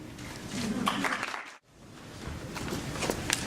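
Steady applause from a crowd, dense and even, briefly dropping out before the clapping resumes at the same level.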